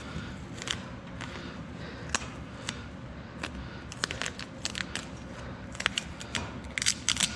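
Duct tape is ripped from the roll and crinkled by hand while insulating a metal building, giving sharp tearing and crackling bursts that cluster toward the end over a steady low background hum, with no talking.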